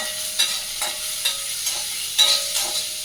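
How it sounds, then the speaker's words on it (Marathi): Garlic, onion and chili sauté in a hot pan, a steady close sizzle broken by several soft stirring scrapes. "लसूण, कांदा, मिरची सगळं घालून घेते. मी परतवते"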